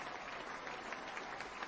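Applause from an event audience honouring teachers at a business gathering, steady dense clapping that fills the whole moment at a moderate distance with no voices on top.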